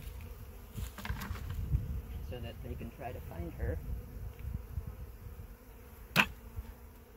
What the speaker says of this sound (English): So I am going to steal the rest of this and knock the bees off of it